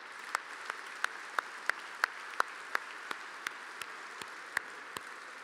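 An audience clapping for Gold Star families, heard as sparse, distinct individual claps at a fairly regular pace over a faint background hum, with no talking.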